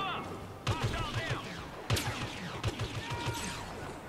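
Weapon fire in the Star Wars Battlefront video game: three sharp, loud bursts spaced roughly a second apart, each followed by a rattling tail, with voices talking in between.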